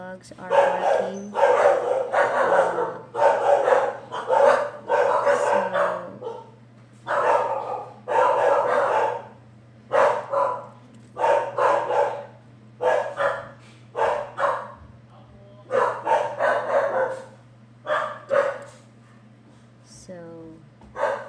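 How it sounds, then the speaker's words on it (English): Several dogs bark in repeated bursts throughout a home craft session, loud and fairly close, with a steady low hum underneath and brief gaps between volleys. "My dogs are barking."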